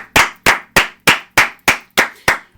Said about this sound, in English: can we give one more round of applause for Liam Hendricks?